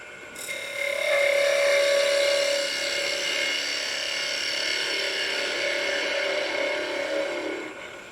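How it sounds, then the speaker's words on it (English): Wood lathe spinning a spalted wood candlestick top while a bowl gouge cuts it concave, giving a steady close whir and whine that rises as the tool bites, then holds level with no talk. "I'm going to go ahead and take the bowl gouge and make this concave just a little bit here"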